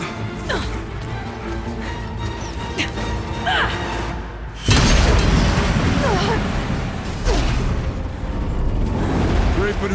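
Explosive ammo blasts in Horizon Zero Dawn's Frozen Wilds, a heavy boom landing midway and rumbling on through loud, chaotic combat noise, with another crash near the end.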